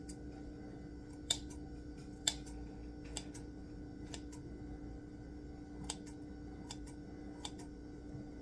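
Scissors snipping through slime, a series of about eight faint, sharp separate clicks spaced roughly a second apart over a quiet background hum.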